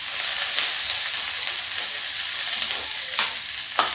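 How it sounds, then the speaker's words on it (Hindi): Green chillies frying in a pan for a spicy chilli pickle, a steady close sizzle with soft stirring and a couple of sharp scraping clicks near the end. "अब ये हरी मिर्च फ्राई कर लेंगे।"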